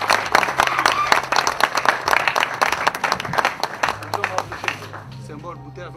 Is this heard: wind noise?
no